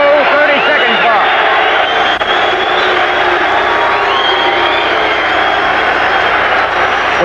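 A football stadium crowd at a 1985 USFL game between the Stallions and the Generals roars in a loud, sustained wash of cheering that holds steady for several seconds with no break.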